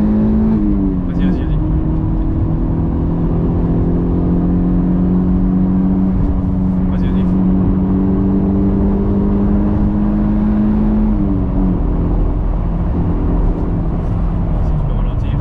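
A Toyota MR2 GTi 16V with a 156 hp engine accelerates while drifting, its engine note droning steadily and loudly from inside the cabin, rising and shifting pitch a few times, with people talking over it.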